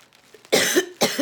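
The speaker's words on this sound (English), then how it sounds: "I am probably going to be coughing periodically through this." Two short, sharp coughs close to the microphone, a brief pause between them, preceded by faint soft breathing.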